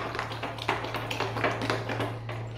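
Spoon mixing vegetable handvo batter of dal and rice in a bowl gives a steady run of light, close taps and scrapes over a low constant hum.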